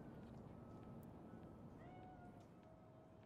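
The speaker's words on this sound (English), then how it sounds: "It's a hairless cat, too!" A hairless cat in the Cyberpunk 2077 video game gives a few faint, drawn-out meows over a heavy bed of ambient game noise, quiet and somewhat distant.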